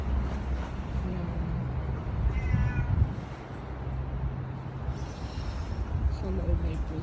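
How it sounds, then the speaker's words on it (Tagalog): A cat meows near a floating house, with a few faint, brief mews half buried under steady talking and background rumble. "Sa loob may pusa."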